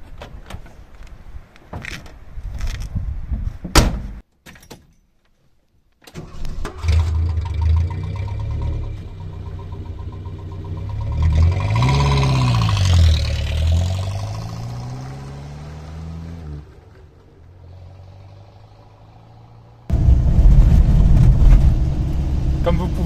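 A 1988 Renault 4 F4 van with an empty rear cargo box: doors shut, the engine starts and revs through the gears, with metallic body rattle and vibration while driving.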